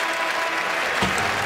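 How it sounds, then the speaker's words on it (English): A hockey arena crowd at a Canucks versus Rangers game cheers and applauds steadily, a dense wash of clapping and voices near the close of the first period. "Cheers are starting to build from the crowd."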